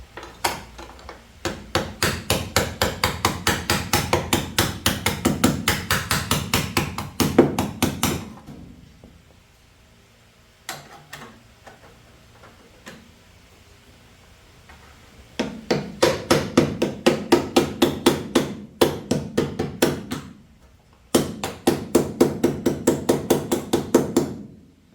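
Repeated hammering on the body panel of an HZ Holden Kingswood ute under budget restoration: long bursts of fast, sharp metallic taps, close and loud, broken by quiet pauses with a few isolated knocks.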